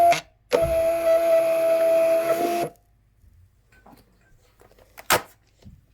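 Munbyn Bluetooth thermal label printer printing a label: a short click, then about two seconds of steady mechanical whirring and feeding hum at close range, stopping abruptly, followed by quiet handling noises and a single sharp tap.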